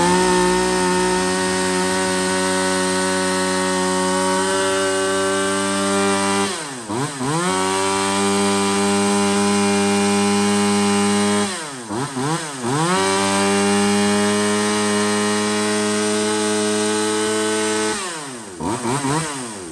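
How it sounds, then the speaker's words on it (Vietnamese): A used Japanese Shindaiwa chainsaw screams at high revs up close, loud and steady, dropping briefly three times before winding straight back up to full throttle. "Đa phần là hãng Sinewa chạy máy nghe tua rất là cao và thoáng máy"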